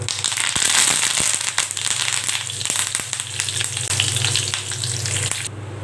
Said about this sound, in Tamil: இப்போ கருவேப்பிலை போட்டுக்கலாம்.